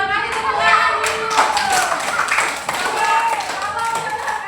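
A class of children claps in quick, uneven bursts at close range, with children's voices chattering over and between the claps.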